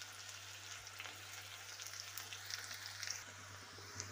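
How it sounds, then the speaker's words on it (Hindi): Onions fry and brown in a pan with a soft, continuous sizzle and light crackles, plus a faint low steady hum beneath and no talking. "और प्याज को मैं थोड़ा सा ब्राउन करूंगी हल्का सा।"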